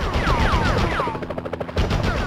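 Rapid bursts of gunfire from the PS1 Spider-Man video game, dense repeated shots under game music with descending synth tones, loud and continuous through the clip.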